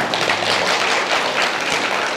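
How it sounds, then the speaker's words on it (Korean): A church congregation at an early-morning Sunday service gives a short burst of applause, dense, steady clapping filling the room for a couple of seconds without a break. "박수 한번 주십시오."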